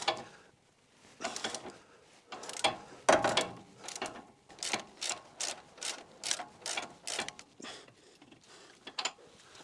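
Ratchet wrench with a 22mm socket on an extension working a nut and bolt on a Toyota Landcruiser panhard rod, close clicking bursts in repeated quick strokes with short pauses between them.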